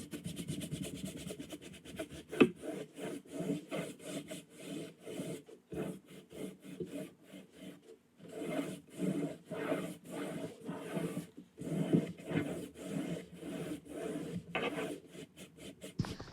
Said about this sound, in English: I then went vertically with the brush and did like a little crisscross type thing